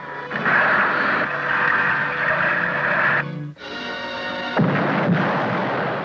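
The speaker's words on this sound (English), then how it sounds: "Torpedo into the reef ahead of the freighter." A loud, sustained rumbling blast follows a torpedo fired into a reef ahead of a freighter in a classic TV sea adventure, roaring for about three seconds, dropping out briefly, then surging again into heavy noise.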